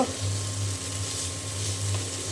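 Sliced okra fries in oil in a pan on a stove, producing a steady, close sizzle that hisses continuously without breaks.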